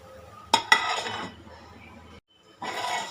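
Two quick metallic clanks as a lid is set onto a pot, followed by a low rumble, a brief pause, then sizzling resumes.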